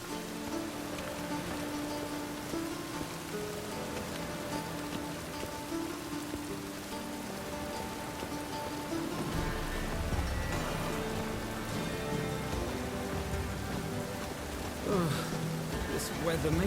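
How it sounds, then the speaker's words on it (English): Steady rain patters over city streets in a video game, a continuous wash of falling drops under a layer of soft background music, with no voices breaking through. "The rain will cleanse the city streets of filth."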